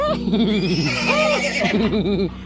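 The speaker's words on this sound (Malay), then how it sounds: "Donkey." A donkey at a zoo brays loudly and close by, a long wavering honking call with see-sawing tones that fades out near the end.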